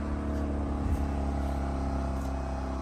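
A Mazda RX-8 rotary engine idles after sitting unused for over a month, giving a steady, dense low hum with a faint even pulse, close and continuous throughout.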